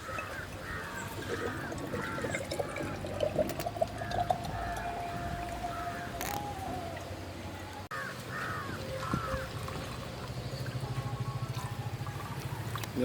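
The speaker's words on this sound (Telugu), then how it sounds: "ఇందులో కొబ్బరి నీళ్ళు కూడా కలుపుదాం." Coconut water pours into a glass of black jamun juice in a soft, steady trickle, while crows caw repeatedly in the background and a voice speaks briefly.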